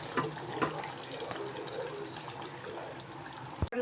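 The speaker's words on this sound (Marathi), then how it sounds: "मी दोन ग्लास पाणी टाकले" Two glasses of water poured into a pot of South Indian sambar with red pumpkin and mashed dal while it cooks, a steady close splashing pour that ends in a brief clatter.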